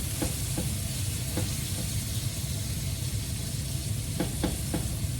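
Ground beef for pad krapow, spicy Thai basil beef, browns in a hot pan with a steady, dense sizzle and frying hiss, broken by a few soft stirring scrapes and clicks.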